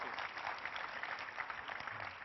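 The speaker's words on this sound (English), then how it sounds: "Please give a big round of applause to Limor Schweitzer from RoboSavvy." Audience applause at a keynote talk on artificial intelligence, a dense even patter of clapping hands sustained throughout.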